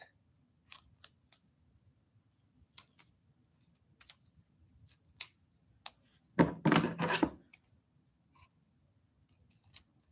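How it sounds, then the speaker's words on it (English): Scissors snip through a paper sticker: a cluster of sharp cuts in quick succession, close and fairly loud, set among scattered quiet taps and clicks of handling on a desk. "I'm going to use it as a horizontal sticker. Let's cut it in half."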